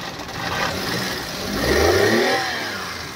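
Maruti Suzuki Alto 800 petrol/CNG car engine running just after starting, following rat-chewed wiring being repaired, a steady mid-pitched hum that rises into a brief rev and settles again, nearby, with no talk.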